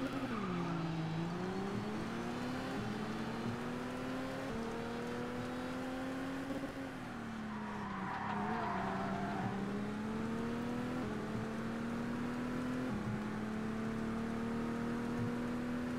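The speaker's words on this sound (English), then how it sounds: "what's that weird noise? Probably the Cobra's changing gear." AC Cobra racing three laps of Mount Panorama at Bathurst in the ToCA Race Driver 2 video game, a continuous engine whine rising in pitch and dropping at gear changes, with some tyre squeal, steady and loud, no talk.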